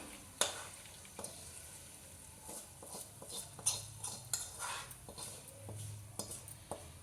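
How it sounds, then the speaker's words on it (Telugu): Hot tempering poured into a bowl of chutney, bringing a faint, close sizzle with light stirring clinks and scrapes throughout and no one speaking. "ఇందులో తిరగబాత పోసేస్తున్నాను"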